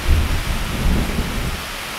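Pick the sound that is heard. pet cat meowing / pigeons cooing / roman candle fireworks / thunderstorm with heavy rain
thunderstorm with heavy rain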